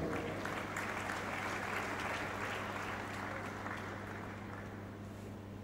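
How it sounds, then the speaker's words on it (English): Graduates at a university convocation ceremony giving themselves a round of applause, dense sustained clapping from a large crowd over a low steady hum, slowly tapering off. "Please give yourself a round of applause."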